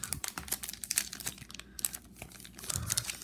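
Topps Star Wars Solo card pack wrapper being torn and opened, crisp crackly crinkling in rapid irregular bursts, close up and fairly quiet with no talking.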